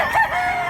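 A rooster crows once, close and loud, a short bright call that rises and then holds before trailing off, with no other sounds around it.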